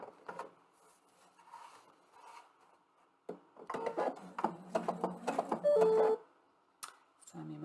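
A PFAFF sewing machine stitching a buttonhole, first in short faint bursts, then a louder run of rapid mechanical clatter ending in a brief whine, followed by a clunk.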